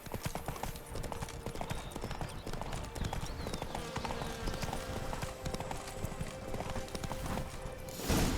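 Hoofbeats of a horse galloping in The Witcher 3 game, a steady rapid clip-clop running throughout at a fairly even level, with in-game ambience and a brief louder burst at the end.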